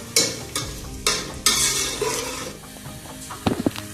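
Onion and garlic sizzle in a hot pan in a village kitchen, a steady frying hiss broken by stirring scrapes and a few metallic clinks near the end.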